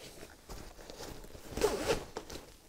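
Zippers on an MFH Travel Molle bag are pulled open, giving a short quiet rasping run that builds to a louder burst near the end.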